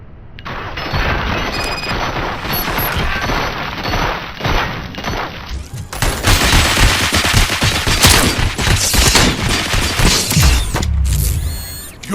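Gunfire in the video game RoboCop: Rogue City, a continuous dense fusillade of rapid automatic shots with booming impacts that intensifies midway and ends in a sweeping electronic effect.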